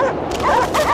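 Dogs in the video game Cryostasis whimpering and yipping in a short, loud burst of rising canine cries, close and alone.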